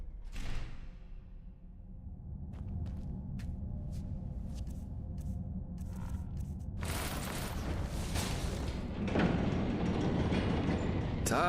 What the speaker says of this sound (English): I'll see if I can get the train running somehow.